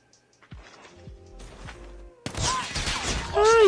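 Gunfire and action noise from a first-person shooter round erupt loud and dense after a quieter stretch of footsteps and thuds, with a high whining tone near the end.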